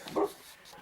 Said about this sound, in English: There's Ivy barking.